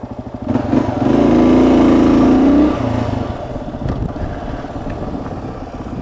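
Motorcycle being ridden after a crash, its engine droning loud and close with a steady rising note before easing back to a rougher, lower rumble; no talk.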